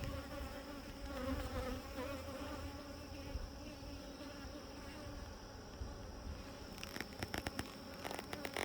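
Honeybees buzzing at the edge of a hive landing board, a dense continuous drone of many insects, close and steady, with some crackling handling noise near the end.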